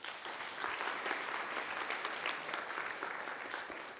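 Audience in a university computing lecture hall breaking into applause, a dense, even wash of many hands clapping at moderate distance for about four seconds.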